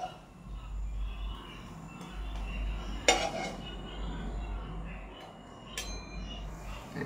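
Fried ripe-banana fritters are lifted onto a dish. A sharp clink of utensil on plate rings out midway and a fainter one follows, over a low background hum.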